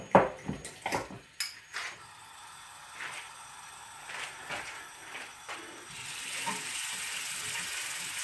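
Garlic hitting hot extra virgin olive oil in a preheated pan gives a soft, steady sizzle with a few clinks and knocks of the pan at the start, fairly quiet and alone.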